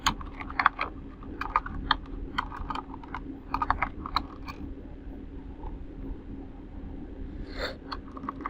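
Typing on a computer keyboard while working in MS Word, close clattering keystrokes in quick bursts separated by short pauses, with the typing thinning out toward the end and no voice.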